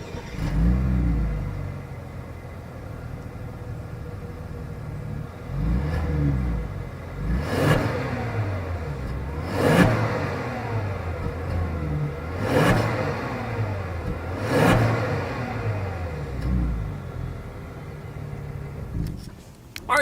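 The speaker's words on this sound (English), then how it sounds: "As always, here is that exhaust clip." A 2020 Genesis G80 Sport with quad chrome exhaust tips idles and is revved several times, each blip a loud rising roar that falls back to a deep rumble, recorded close at the rear.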